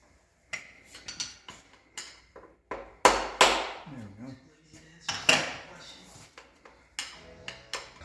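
Metal clanks and knocks ring out as a piston is removed from a Pontiac 261 inline-six in a 1958 Sedan Delivery. Sharp impacts and scrapes arrive at irregular intervals, some loud and close, with brief talk between them.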